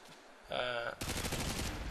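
Short, loud burst of rapid automatic gunshots in Call of Duty: Modern Warfare 2, cutting in abruptly after a brief voice-like tone and continuing close and steady to the end.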